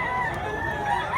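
A Gilmore Hatch gamecock rooster crows in one steady, sustained call close by, with no talking over it.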